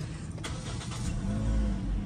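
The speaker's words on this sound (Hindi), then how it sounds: "ये गाड़ी का स्टार्टअप है" A 2020 Toyota Grande 1.8 engine starts up, its low rumble swelling and settling into a steady, fairly loud idle, with no talking over it.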